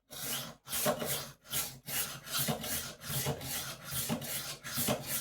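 Kitchen knife drawn across the coarse side of a sharpening stone in steady, repeated rasping strokes, about a dozen close scrapes with brief pauses between, no voices.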